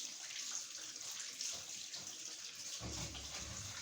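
Tap water runs steadily into a sink while dishes are washed, a soft continuous hiss and splash with a brief heavier gush near the end.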